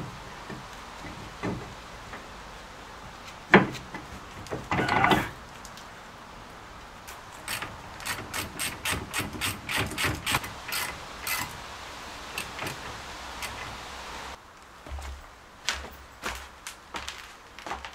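A power tool drives bolts tight on a 1999 Audi TT during a front wheel bearing replacement, giving a series of sharp, rapid mechanical rattling bursts close by, with pauses and clinks of tools in between.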